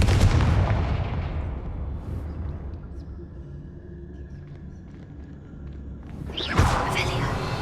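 A Confringo fire spell explodes in Hogwarts Legacy, opening with a loud booming blast that rumbles and fades over several seconds before a second sharp burst near the end.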